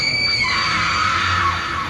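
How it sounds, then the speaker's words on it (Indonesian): A woman screams in fear at night beside an angkot minibus door, a loud, high, sustained shriek with a rising then falling pitch across about two seconds, with no talk. "Dewi menjerit seketika karena ketakutan."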